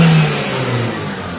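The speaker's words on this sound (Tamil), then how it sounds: "இதான் இன்ஜின் நாய்ஸ்" A Swift Dzire 1.3 litre petrol engine revs loudly up close in a short, steady whirring surge with no voices.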